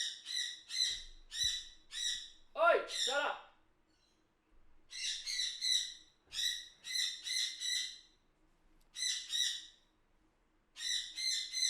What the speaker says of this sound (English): Excuse that bird.